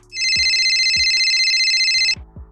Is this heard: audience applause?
no